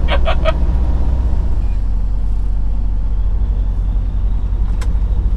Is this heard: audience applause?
no